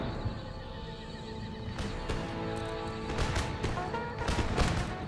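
Musket volley fire in Empire Total War as Zemindari horsemen charge, a burst of sharp cracks from about 1.8 s onward over a dense battlefield din of horses and clattering hooves.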